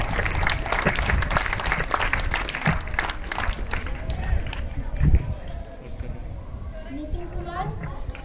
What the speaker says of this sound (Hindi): जोरदार तालियों से स्वागत कीजिए ओमकार का स्मार्ट सिटी प्रोजेक्ट है